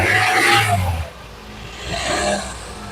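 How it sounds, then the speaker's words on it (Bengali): A used car's engine starts and runs, a mid-pitched engine tone swelling at first, easing off, then rising again, close and with no talking. "এখনই ইঞ্জিনটা স্টার্ট দিয়ে আমরা শুনবো যে ইঞ্জিনের সাউন্ডের কি অবস্থা"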